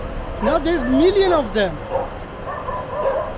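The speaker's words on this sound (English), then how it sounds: "Dogs, guys, getting crazy when they saw those four big guy dogs." Several dogs bark, yip and whine excitedly near a beach on a rainy day after spotting four big dogs, the yelping rising and falling under a voice speaking.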